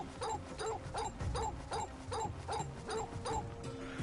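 A dog in the video game Final Fantasy XVI gives a rapid run of short, evenly spaced yipping barks, about eight in a row over steady game background sound.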